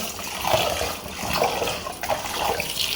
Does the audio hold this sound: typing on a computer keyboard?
no